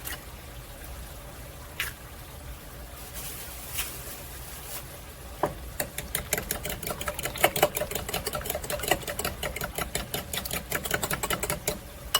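Electric mixer whisking eggs into peach pudding batter, starting with a quiet hum and a few knocks, then settling into a rapid, steady rattling whir that stays loud and close.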